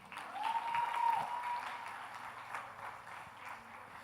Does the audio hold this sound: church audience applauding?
yes